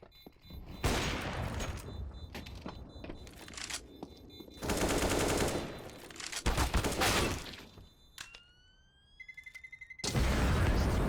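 Rapid automatic gunfire in Counter-Strike rattles in several loud bursts, one sprayed through smoke, with sharp single shots and a rising electronic tone in between, ending on a heavy burst.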